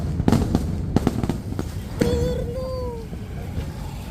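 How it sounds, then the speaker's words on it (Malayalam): Fireworks from the Paramekkavu side at Thrissur Pooram crack in a quick, irregular burst of sharp bangs, followed by a thin whistling tone fading out against a rumbling background. "ഇനി ഒരു സെറ്റും കൂടി ഉണ്ട് വെടിക്കെട്ട്"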